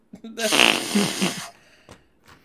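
A loud, close fart blown right into a microphone, one long raspy sputtering burst lasting about a second, followed by a couple of faint short noises.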